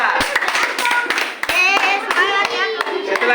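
Fourth-grade pupils clap for a group in a classroom Quran-reading lesson, a short run of close, sharp handclaps mixed with children's chatter and high-pitched voices.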